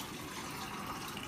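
Water runs steadily from an SD501 alkaline water ionizer into a glass, a continuous broadband gush at moderate level with no talking.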